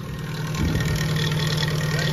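A Nissan B13 ECCS engine, awaiting injector replacement, idles with a loud, steady rattling drone and a hint of knocking, heard close and continuous throughout.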